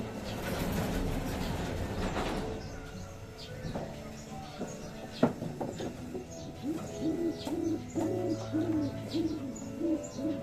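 Racing pigeons being readied for a national race coo softly in a loft, a low warbling murmur in the second half, with someone talking over a steady background hum.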